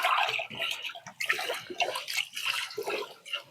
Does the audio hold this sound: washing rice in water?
yes